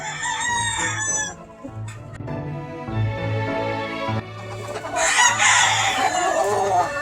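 A North Briton rooster on a Georgia farm crows loudly and close, with a long drawn-out call, while hens cluck softly underneath.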